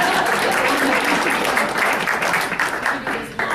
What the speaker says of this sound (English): Give Phil another round of applause.